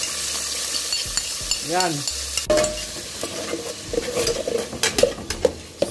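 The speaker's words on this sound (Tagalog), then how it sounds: "Ilagay na po natin ang ang mga bawang, sibuyas, todos." Garlic and onion sautéing in a pan with sardine pasta, a steady sizzle broken by scraping, clattering stirs that grow busier toward the end; a short spoken word and a brief whistle-like tone cut through early on.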